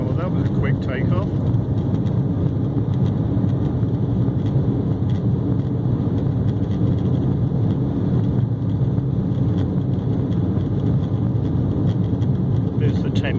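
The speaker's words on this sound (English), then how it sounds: "Takeoff." A passenger aircraft takes off from London City Airport, heard as a steady, loud engine roar from inside the cabin that holds constant for the whole stretch.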